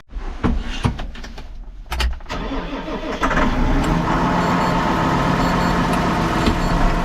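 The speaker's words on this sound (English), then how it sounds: "I'm gonna fire up the tractor, get that warming up" Clicks and a cranking starter lead into a diesel engine catching and settling into a steady, close rumbling idle.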